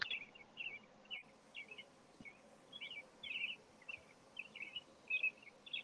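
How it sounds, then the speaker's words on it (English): Birds chirp and sing outdoors near a porch in short, repeated bright phrases, fairly faint against a low background hum, with no talking over them. "the birds are singing so pretty, though"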